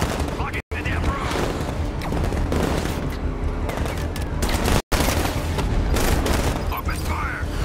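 Sustained gunfire from Batman: Arkham Knight, a dense continuous barrage of shots and booms running through the whole stretch, loud and close, with shouted voices mixed in.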